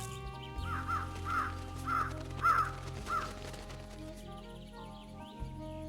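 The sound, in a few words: birds cawing in the video game Truberbrook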